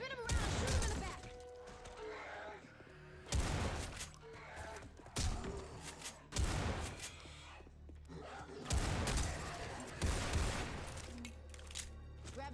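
Bursts of gunfire in Left 4 Dead 2 come in several separate volleys, sharp rapid shots in loud clusters spaced across the stretch with quieter game ambience between them.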